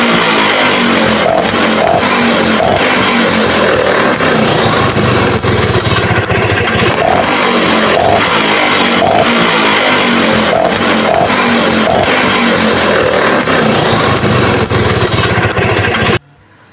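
A Vespa VBB scooter engine idles steadily after being started, a loud, continuous two-stroke chatter with a rapid even pulse and no speech over it, cutting off just before the end.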